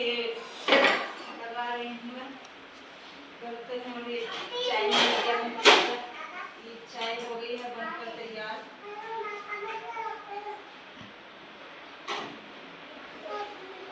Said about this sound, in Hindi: इतने चाय बने इतने में थोड़े से बर्तन लगा देती हूँ।